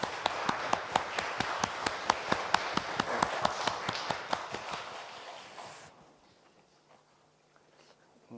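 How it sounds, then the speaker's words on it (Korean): A church congregation gives a round of applause for two singers after a hymn: a sharp, fairly even clapping rhythm that gradually thins out and fades, leaving a quiet room. "다시 한번 우리 귀한 찬양 들려주신 두 분께 우리 감사의 박수 한번 하겠습니다"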